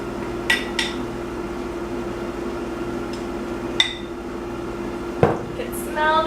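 A spoon stirs cheese into macaroni in a pressure cooker pot, giving a few sharp metallic clinks spread through the clip over a steady low appliance hum.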